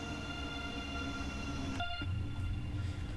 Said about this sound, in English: And we got the suburban train going out as well.